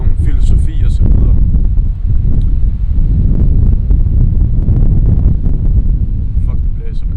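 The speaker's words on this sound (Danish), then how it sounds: "det blæser, mand. Jeg håber ikke, at lyden bliver alt for fucked." Strong outdoor wind buffets the microphone with a loud, continuous low rumble and roar throughout, while someone talks over it.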